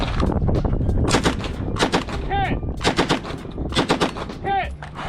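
An MP40 submachine gun fires rapid bursts at a competition shooting match, loud close sharp reports with short pauses between strings and ringing hits on steel targets.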